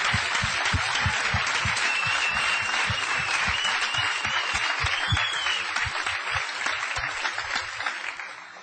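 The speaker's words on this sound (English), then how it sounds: "We should give him a round of applause for that." Sustained, loud audience applause fills a large hall at an Amway network marketing event, with dense clapping and a few individual claps standing out, steady throughout before easing slightly at the end.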